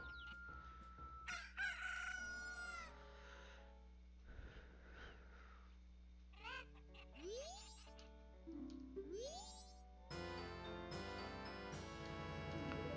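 Chickens in Majora's Mask crow and cluck in short bursts over a quiet game background hum, with rising electronic chirps and jingles mixed between the calls.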